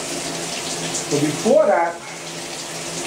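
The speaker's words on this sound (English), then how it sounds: "I'm gonna take another shower" Water runs steadily from a shower in a bathroom, a continuous hiss with a brief louder splash midway, while someone speaks over it.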